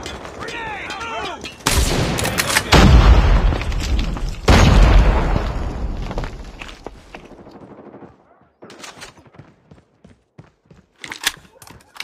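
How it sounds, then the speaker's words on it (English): A predator missile strike in Call of Duty Mobile lands as loud booming blasts amid bursts of gunfire, then fades to sparse, quieter shots near the end. "Friendly predator missile inbound."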